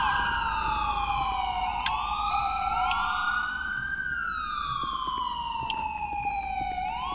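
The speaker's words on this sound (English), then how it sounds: "you wanna turn your siren off over there?" Police car siren in the video game GTA 5, a wailing tone sweeping up and down continuously, moderately near over a low background rumble, no talk.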